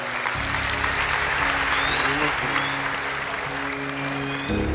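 A studio audience on a Turkish talent show applauds a contestant coming on stage, steady dense clapping with a low musical tone underneath for nearly five seconds.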